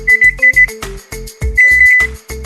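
Kitchen timer going off while rice and beans cook: a loud electronic alarm with rapid pulsing beeps in short bursts, then a longer ringing run, close and alone.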